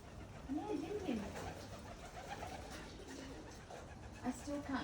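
Pigeons being fed bread outdoors alongside other birds, including sparrows and crows, coo softly in low, rolling calls through steady background noise, with a voice speaking faintly nearby.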